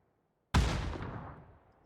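A grenade explosion in the PUBG battle royale game, a single sudden heavy boom after half a second of silence that rolls off into a long, fading rumble, loud and close.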